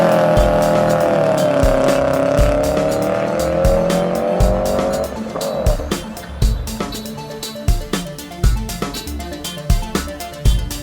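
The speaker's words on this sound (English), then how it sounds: "The Boxer engine really puts out a unique sound" A drift car with a Boxer engine and HKS blow-off valve roars in a rising, wavering note, then breaks into a string of sharp popping bursts and tire noise, loud and close with no talk.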